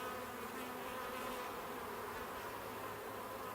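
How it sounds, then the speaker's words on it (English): Honey bees buzzing on a hive frame, a steady, dense, faint swarm hum with no pauses. "The bees look pretty good."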